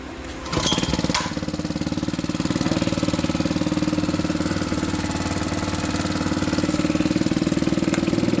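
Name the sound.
construction site compressor petrol engine starting and running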